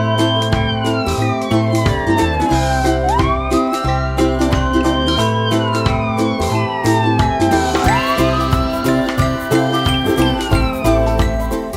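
Toy ambulance siren in a Peppa Pig play scene, a loud repeating electronic wail that rises and falls steadily over continuous jingly music, with no talking.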